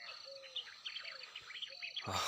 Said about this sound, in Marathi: पक्ष्यांचा चिवचिवाट चालू आहे